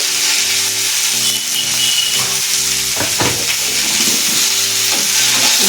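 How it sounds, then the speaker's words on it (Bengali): Turmeric, chili powder and mustard powder frying in hot oil in a pan, a loud steady sizzle throughout with a utensil scraping and stirring through the spices, close up and with no speech. "মশলা ভালো করে একটু নাড়াচাড়া করবো"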